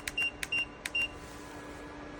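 A 2000W PTC electric space heater's control panel gives three short, clear electronic beeps in quick succession as the timer is set, each paired with a button click, over a faint steady hum.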